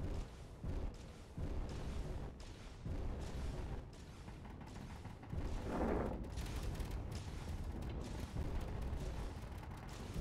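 Spaceship weapons fire in a Space Engineers battle, a dense barrage of booming, rumbling blasts and impacts that run continuously and loudly throughout, swelling to a heavier burst midway.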